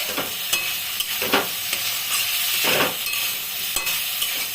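Beans and potatoes stir-fry with poppy seed paste in a pan, a constant crackling sizzle with repeated scraping strokes of a spatula pushing the mixture around, close and fairly loud.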